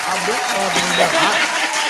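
A small group applauds a podcast crew member named Tone with a dense, steady patter of clapping that runs under overlapping voices and light chuckling.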